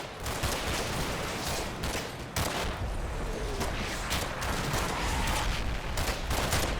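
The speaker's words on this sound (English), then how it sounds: "The defenders in the command centre lay down withering fire." Gunfire from defenders in a command centre during a Combat Mission battle in Operation Epsom, dense overlapping rifle and machine-gun bursts crackling continuously at a moderate level with scattered louder reports.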